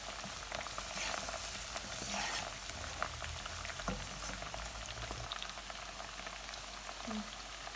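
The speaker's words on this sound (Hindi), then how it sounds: "ये लहसुन अदरक जो है ये भून के अब इसमें हम ये जो मसाले मैंने आपको बताए थे कीमे के लिए, ये इसमें डाल दें" Garlic and ginger frying with spices in a pan for keema, a steady soft sizzle and crackle running throughout at moderate level, with a low background rumble and no talk.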